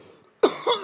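A man coughs sharply several times in quick succession, close and loud, breaking a near-silent pause on a podcast.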